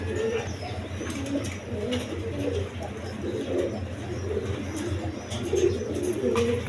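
A pair of Koka pigeons coo steadily in soft, repeated low phrases, close by and continuous over a steady background hum, with a faint voice now and then.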